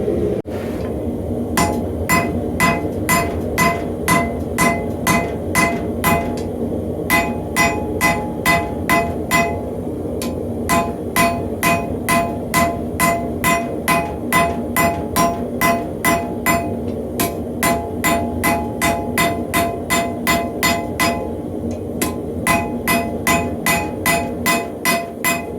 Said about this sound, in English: Been using really light hammer blows because I don't want to crack the welds